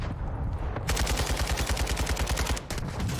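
Rapid automatic gunfire cracks out in dense, even bursts in the video game Warzone 2, loud and close, with a brief break near the end before the shots resume.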